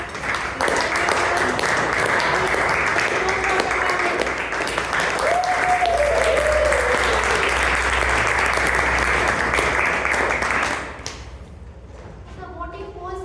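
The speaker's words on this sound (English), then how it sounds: "let's have a good round of applause for all our speakers" A meeting audience claps for its speakers at the Agnel Toastmasters club, a full sustained round of applause with a whoop rising over it, cutting off near the end into quieter talk.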